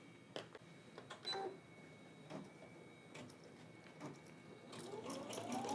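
Brother embroidery machine starting a design and stitching, giving faint, close mechanical clicks and a light repetitive whir, with a rising whine toward the end.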